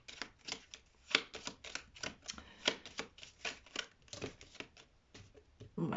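Tarot cards being handled and laid down on a table, a steady run of soft rapid flicks and slaps up close, fairly quiet and without talk.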